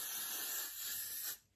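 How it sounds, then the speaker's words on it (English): A spray bottle mists liquid onto a wig in one long, close, hissing burst that stops abruptly near the end, with no voices. "Just spray, spray, spray."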